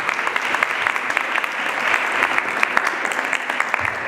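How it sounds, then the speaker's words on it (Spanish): An audience at a conference talk on addictions claps steadily for the speakers, a dense, even wash of applause with individual sharp claps standing out throughout, close and fairly loud. "Un aplauso para los disertantes."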